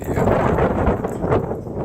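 Strong wind buffets the microphone outdoors at a fishing spot, a loud, rumbling, gusty roar that stays constant throughout, with no speech.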